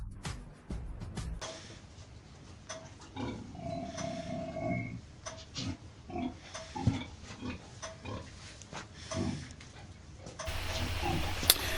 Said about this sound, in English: Here we find a pig that cannot walk.